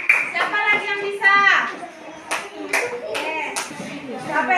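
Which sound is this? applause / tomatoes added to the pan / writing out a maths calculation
applause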